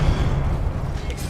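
A Confringo spell explodes in Hogwarts Legacy, giving a short, loud, low rumbling blast that fills the moment with deep, muffled booming.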